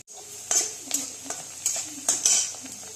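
Chopped onion sautéing in a pan with a steady faint sizzle under repeated scraping stirs of a spoon, about five or six strokes, close up with no speech.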